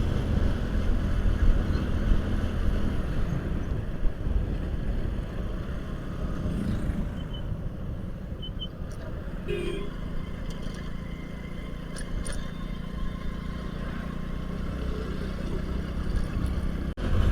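Steady drone of a motorbike ridden along a road, heard from the rider's seat: continuous engine hum mixed with rushing wind noise for the whole stretch. Nobody talks.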